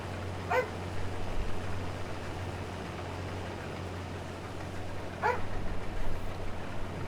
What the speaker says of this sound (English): I don't know why you're barking.